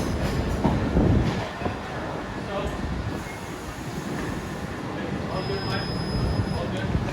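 A Class 377 electric passenger train rolls along, producing a continuous rumbling rattle of wheels on track with clickety-clack beats and a faint high whine, while someone talks over it.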